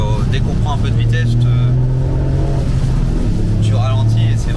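A Toyota Yaris GR Track Pack fitted with an Akrapovic exhaust accelerating on a wet, twisty road, its engine note rising and falling in a steady drone with a second surge near the end, under French conversation.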